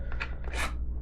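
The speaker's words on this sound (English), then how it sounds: "Let's try not to cut any knife, getting the knife out of the box," A SOG Escape knife being pulled from its box and packaging: a short sequence of papery, plasticky scrapes and rustles, close and fairly loud, with a brief swishing peak and no talking.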